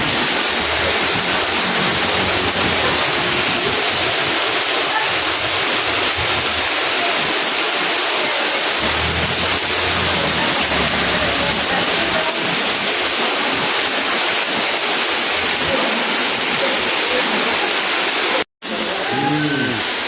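Steady, dense roar of heavy rain pouring down continuously in Mumbai, loud and close, with a brief dropout near the end.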